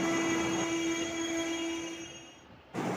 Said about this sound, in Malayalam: നമ്മുടെ വണ്ടി അങ്കമാലി റെയിൽവേ സ്റ്റേഷനിൽ നിന്ന് പുറപ്പെട്ടു